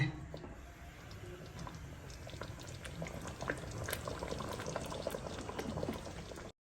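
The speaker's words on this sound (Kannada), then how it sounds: "ಕುದಿದ್ರೆ ಸಾಕು ನೋಡಿ ಗಟ್ಟಿ ಅಂತ ಬರುತ್ತೆ" Capsicum gojju, a thick Havyaka home-style sauce with chana and urad dal, boils in a pot with a steady, soft bubbling and popping that stays faint and continuous throughout.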